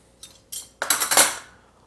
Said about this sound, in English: Cutlery includes spoons, forks, knives, things we use to eat with.